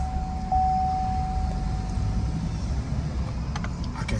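A GMC Sierra pickup with a shuddering torque converter and 6L80 transmission drives on a test run, giving a steady, loud low engine and road rumble with a faint whine and light rattles near the end.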